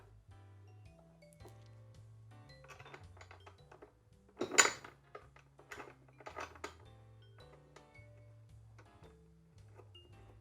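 Metal bolts clink and tap softly while an office chair is put together, with scattered light metallic ticks, one sharper clatter near the middle and a low hum underneath.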